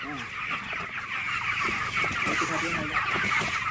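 Chickens on a poultry farm keep up a continuous, dense clucking and chatter from many birds at once, close and steady throughout.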